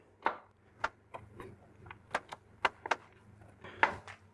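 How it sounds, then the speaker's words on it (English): A knife chops walnuts on a board in sharp, uneven strikes, about a dozen crisp knocks spread across a few seconds in a quiet kitchen. "So give them a good old chop up."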